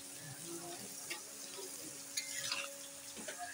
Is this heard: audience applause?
no